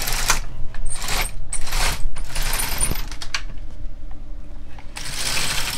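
An LK 150 knitting machine carriage is pushed across two rows, making loud mechanical clattering and ratcheting runs with a brief pause between passes.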